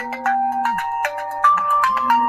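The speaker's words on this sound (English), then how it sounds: "I'm just gonna take a phone call." Phone ringtone for an incoming call, a bright electronic melody of stepped tones repeating in a short looping phrase, loud and clear with no voices.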